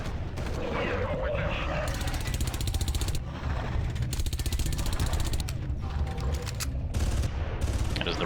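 A gun fires continuously in the Far Cry video game: a dense, loud, sustained automatic rattle, close and relentless, with brief dips and surges over the whole stretch.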